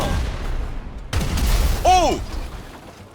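Gunfire from a weapon in the video game GTA 5, a sharp burst followed by a booming report and a whooshing tail, close and loud in a short stretch.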